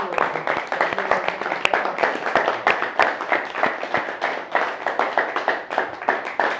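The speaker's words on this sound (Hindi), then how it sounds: "तो यहां पर आप कर सकते हैं जोरदार तालियां इतने के लिए।" A seated audience at a Hindi motivational talk claps loudly and steadily, a dense rhythmic patter of many hands sustained throughout with no talking over it.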